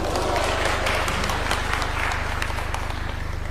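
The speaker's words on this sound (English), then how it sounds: "Another round of applause." Crowd applause after a keynote speech at an outdoor gathering in Homa Bay, a steady dense wash of clapping with a low constant hum underneath, loud and sustained throughout.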